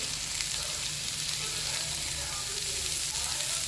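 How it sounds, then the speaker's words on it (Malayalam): Chopped carrot, beans and cabbage sautéing in a hot pan, a steady close sizzle with soft stirring for a few seconds. "അതും കൂടിയിട്ട് നമുക്ക് വഴറ്റാം."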